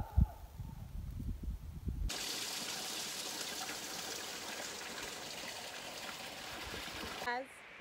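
Fresh mountain water flowing in a stream in the Drakensberg, a steady, broad rushing wash that starts abruptly and carries on, with a brief muffled voice and handling noise before it.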